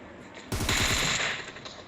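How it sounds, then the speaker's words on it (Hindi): Rapid automatic gunfire from PUBG Mobile, shot at a wall, bursting in loud and sustained after a quiet start and then tailing off over the next second. "असल में मैं गोली दीवार पे चला रहा होता हूँ।"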